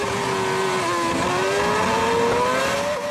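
Formula 1 race cars accelerating at Spa in the 2007 season, Ferraris and McLarens, a loud continuous high-pitched engine scream rising steadily in pitch as the cars pull away.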